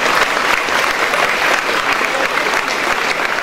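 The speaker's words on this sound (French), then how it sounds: "Michel Telet, le maire de Gagny, voilà, on peut applaudir" Crowd at a French municipal gathering applauding as neighbouring mayors are introduced, a dense, loud burst of clapping that holds steady throughout.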